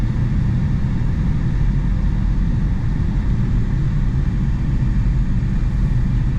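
A steady, low engine hum and road rumble inside a moving 1979 Ford Thunderbird Heritage Edition, constant and muted with no voices.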